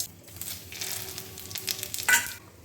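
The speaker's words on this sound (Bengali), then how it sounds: "এবারে ফোড়ন দেব জিরে তেজপাতা আর একটু গরম মশলা" Cumin seeds, bay leaf and garam masala hit hot oil for tempering a jackfruit curry, a soft close sizzle that swells briefly with a stir near the end.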